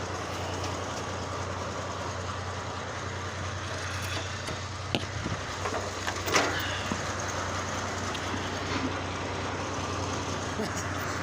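An old truck tractor's engine runs at a steady idle with a low, constant rumble throughout, plus a few brief knocks and rattles in the middle; speech is faint or absent.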